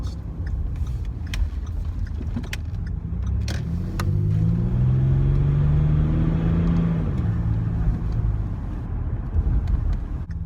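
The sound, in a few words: Ford Territory 2.7L V6 turbo diesel engine with muffler deleted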